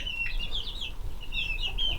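Chickens and a rooster on a homestead, with bright, repeated clucks and short calls close by over a low outdoor rumble.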